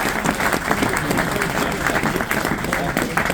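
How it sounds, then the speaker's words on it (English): Loud crowd applause for a former Ipswich Town football manager at a locomotive naming event, dense steady clapping with voices and chatter mixed in underneath. "I think we can give a big round of applause for this man"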